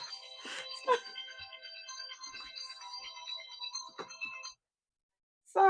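A phone ringtone plays as a steady tonal melody at moderate level for several seconds and then stops abruptly, with brief faint sounds and a short burst near the end.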